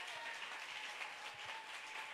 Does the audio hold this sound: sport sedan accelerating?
no